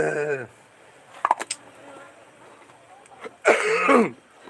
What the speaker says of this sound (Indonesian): Sampai batuk aku